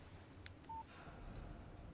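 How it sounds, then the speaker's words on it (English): A phone in Alan Wake Remastered gives a single short electronic beep as a text message arrives, faint over a low background hum. "Text message from Barry."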